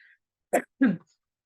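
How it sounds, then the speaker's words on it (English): Two short, sharp coughs in quick succession, close and clear, with silence around them. "I apologize in advance for my cough."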